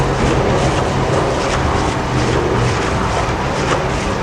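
Pump filling tractor tires with liquid ballast, a loud, continuous, even mechanical rumble and rush heard up close with no talking.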